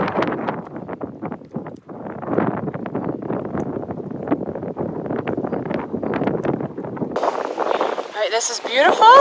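Heavy wind buffets the microphone on the Appalachian Trail throughout, a constant rough roar with gusts, and a voice speaks under the noise.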